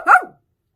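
A single sharp dog bark sounds close and loud, then cuts off into silence.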